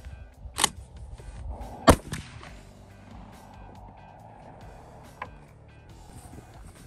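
A BB gun fired through a Muller passing choke, giving a sharp near crack followed by a second report, set over a steady outdoor background hum.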